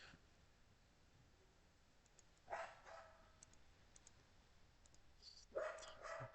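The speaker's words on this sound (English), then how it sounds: "And my dog is going nuts." A dog barks in the distance, two short bursts of barking several seconds apart over a quiet room with faint clicking.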